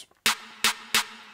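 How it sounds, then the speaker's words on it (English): Roland 808 sub bass note sample played in Ableton Live: three short punchy hits with a bright attack and a low sustained tone underneath, evenly spaced, close and alone. "the other sub 808, the long bass note, then it punches through"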